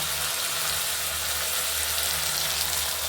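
Tomato and stone-ground spice paste sizzle in a wok while an Indian vegetarian potato-paneer curry cooks, giving a steady, close, continuous frying hiss with no talking.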